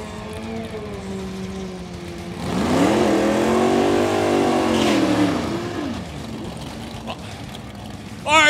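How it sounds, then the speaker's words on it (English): Race cars and motorcycles firing up and revving their engines at a live motorsport event, a loud rising roar that swells, holds for several seconds and falls away, over crowd and announcer noise. "Bikes, fire up cars."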